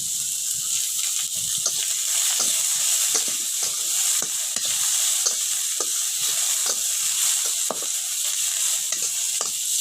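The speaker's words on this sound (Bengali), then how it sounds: "রসুনগুলো একটু ভেজে নিচ্ছি।" Garlic fries in a pan for a vegetable bhorta with a loud, continuous sizzle and hiss, broken by regular scraping and clicking stir strokes from a spatula.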